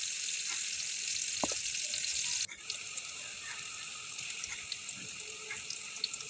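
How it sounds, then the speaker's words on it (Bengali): Chopped onions fry in hot oil with a steady, bright sizzle that hisses on and on, joined by a few faint clicks and a brief stir. "তেলগুলো গরম হয়ে যাওয়ার পরে আমি প্রথমে পেঁয়াজ কুচিগুলো দিয়ে দেবো।"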